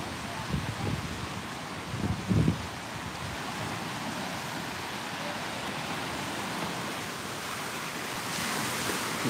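Ocean waves wash onto a beach in a steady broad roar with wind buffeting the microphone, a few louder low rumbles early on, and no clear talk over it.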